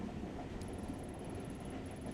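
A train rolls along rails in the video game Tokyo Dark, giving a steady, dense rumble with a thin high whine that starts partway through and carries on alone, with no talking.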